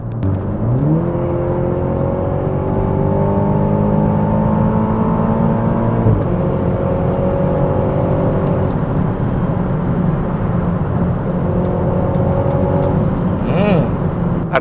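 A BMW Z4 sDrive30i exhaust is revved several times: the engine climbs in pitch, holds a steady loud drone, drops back, then rises again, close and continuous throughout.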